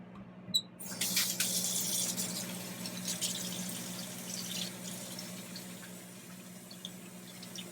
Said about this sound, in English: I'm gonna wash my hands again because I just touched that lid